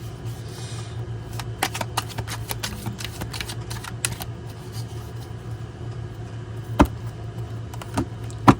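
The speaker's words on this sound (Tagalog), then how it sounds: "Balasahin lang po natin mabuti." Tarot cards being shuffled by hand at close range, a run of crisp riffling clicks and flutters in irregular bursts over a low steady background hum.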